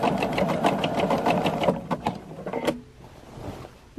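Sewing machine stitching a quilt, running in fast continuous bursts with a steady mechanical whir, then stopping and leaving a quiet tail at the end.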